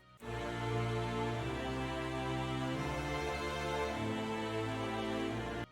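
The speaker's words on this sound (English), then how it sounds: "So I have the double bass, choir, and violas playing this rhythm." Calm orchestral music in which double bass, choir and violas play a repeating rhythm, sustained and full throughout with a steady low end, no voices speaking.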